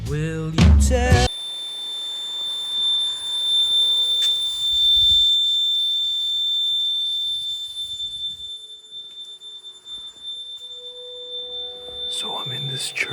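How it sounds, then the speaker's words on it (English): Inside a church, an alarm rings in a steady high-pitched electronic tone that runs continuously for many seconds, with a short burst of singing at the start and another voice near the end. "I think the alarm has gone off because it's ringing like crazy"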